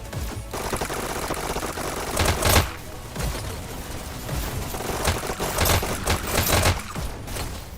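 Rapid bursts of SMG fire from a player defending against a cart push in a Pavlov VR esports match, crackling in dense, uneven volleys with a few louder bursts and no clear pauses.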